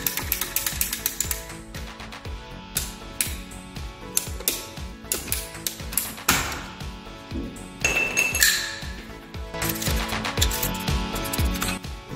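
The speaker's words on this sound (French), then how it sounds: "Je viens couper les tuyaux." Pipe-cutting pliers clicking and ratcheting through pipes during a radiator installation, a dense string of sharp metallic clicks and ratchet pawl snaps with occasional light clinks, close and steady, without speech.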